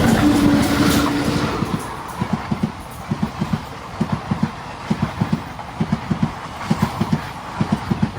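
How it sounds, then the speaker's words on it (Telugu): The Villupuram Intercity Express rolls along the rails, its wheels giving a steady, regular clickety-clack over rail joints under a continuous rumble, loud and close, with no voices. "మళ్ళీ బయలుదేరిపోయింది మన ట్రైన్ కానీ చూసుకుంటే"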